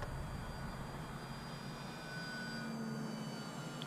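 Flite Test not-so-mini trainer RC plane flying overhead, its electric motor giving a steady, fairly distant whine that holds evenly throughout with no voices.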